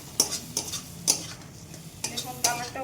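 Dried puti fish for a chutney, fried and stirred in a pan: a steady low sizzle with five sharp, close clacks of a spatula against the pan at uneven intervals.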